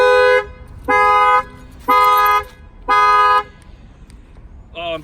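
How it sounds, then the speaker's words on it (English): A car alarm triggered by banging on a tire blares in four loud, evenly spaced bursts of harsh tonal honking, with a brief start of another at the end. "I'm gonna go ahead and bang on the tire, and the alarm is gonna go off"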